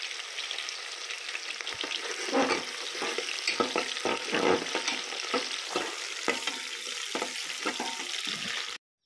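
Onion and bay leaf fry in oil for pulao while being stirred, a steady close sizzle broken by intermittent scraping and rustling stir strokes, running continuously before cutting off abruptly at the end, with no talking.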